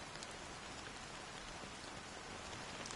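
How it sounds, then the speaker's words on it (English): Steady rain falls in a Honkai Star Rail video game cutscene, a dense, even hiss of drops on surfaces continuing without pause and with no voices. "I'll probably just fall asleep listening to this rain"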